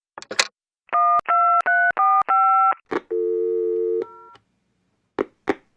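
Telephone keypad tones beep in a quick series of five, followed by a longer steady tone and a few clicks, in a radio play.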